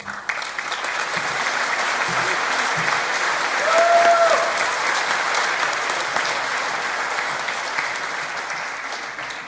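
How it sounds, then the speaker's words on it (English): Sustained applause from a large audience at a college graduation ceremony, dense steady clapping that swells slightly midway, with a brief faint whistle-like tone above it. "It was good claps as well, yeah?"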